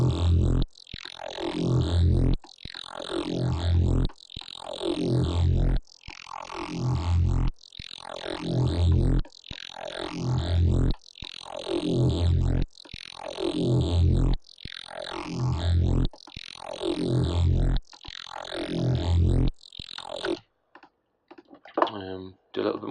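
A phaser neuro bass synth with an automated Fruity Phaser sweep pulses in loud repeated buzzing notes, each swept with a moving phaser shimmer, in a steady rhythm, then breaks into short stuttering bursts at the end.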